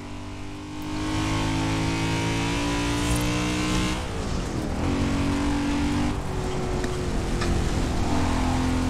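A BMW engine revs hard while racing in Forza Horizon 4, a loud, sustained harmonic drone that climbs and shifts gears with several pitch drops and re-accelerations, close and continuous.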